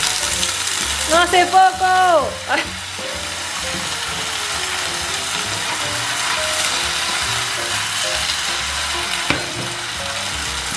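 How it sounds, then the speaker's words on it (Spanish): Potato gnocchi frying in oil in a pan, a continuous loud sizzle with a short burst of speech and clatter near the start, then a steady crackle on its own. "los voy a poner en una sartén con aceite"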